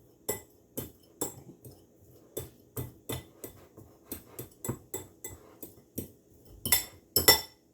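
A hard-boiled egg is mashed in a bowl with a utensil, giving a series of sharp clinks and taps against the bowl. The strikes come at an uneven rhythm, close and fairly quiet, and grow louder and quicker toward the end.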